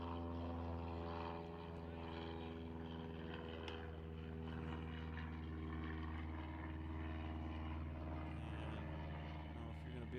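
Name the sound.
Chinook helicopters flying over a baseball game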